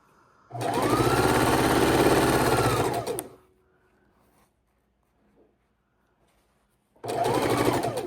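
A sewing machine sews quilt rows together for a scrap quilt, running in two close, steady bursts: a long stretch of whirring stitches, a pause of quiet, then the motor starts again.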